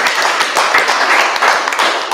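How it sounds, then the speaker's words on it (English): A room of people applauding Tyler County Hospital at a county commissioners' court meeting, a steady, dense burst of clapping from a small crowd heard close, with no talk over it. "And I'd like to give a round of applause to them."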